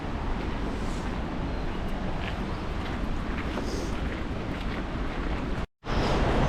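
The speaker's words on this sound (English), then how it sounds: "Okay, the rapids are just behind me." River rapids near a large waterfall, a loud, continuous broadband rushing roar with wind buffeting the microphone, briefly cut out for a moment near the end, no talk.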